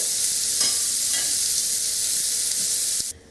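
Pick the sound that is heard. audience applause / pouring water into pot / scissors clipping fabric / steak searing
steak searing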